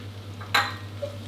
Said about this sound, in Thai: แล้วก็ผัดคลุกเคล้าผสมให้เข้ากันดีครับ